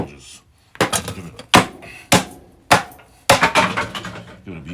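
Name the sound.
old wooden chair being beaten apart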